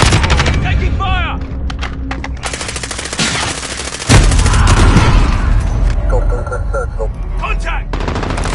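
Rapid automatic gunfire and explosions from a PS4 shooter game, loud and dense bursts with booms, mixed with in-game radio chatter.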